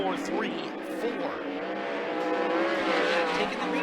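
360 sprint cars roaring around Skagit Speedway at the green flag, engines loud and continuous with rising and passing revs, a commentator talking over the racing.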